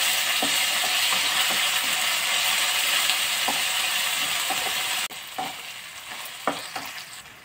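Homemade pounded ginger-garlic paste frying in hot oil for chicken keema biryani, a steady close sizzle with occasional stirring clicks, dropping quieter partway through.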